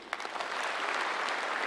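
An audience breaks into applause at a public gathering in Kenya, a dense burst of clapping that quickly rises and stays loud through the whole short stretch.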